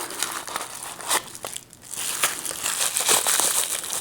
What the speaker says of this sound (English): That's the bubble wrap.